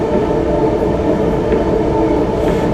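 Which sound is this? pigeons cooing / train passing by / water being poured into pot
train passing by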